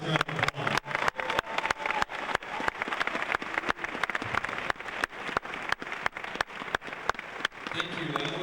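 An audience gives a round of applause for a co-MC at an evening event, with steady claps ringing out in a rhythmic, somewhat sparse pattern that fades toward the end, and faint voices in the background.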